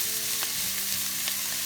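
Garlic sautéing in a pan for keto cabbage soup, a steady soft sizzle with a few light stirring scrapes, close and alone with no talking.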